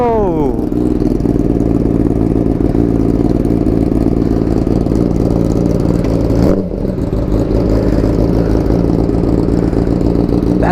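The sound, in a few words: Kawasaki Ninja ZX-6R with Akrapovic slip-on exhaust revving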